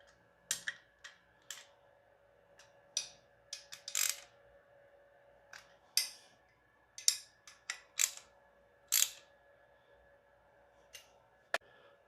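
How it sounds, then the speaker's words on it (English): Bolts on a transmission subframe for an LS engine and Tremec TKX mock-up are snugged with a ratchet, heard as sharp, separate clicks in short irregular bursts against a quiet background. "So for now, I'll just snug them up with a ratchet."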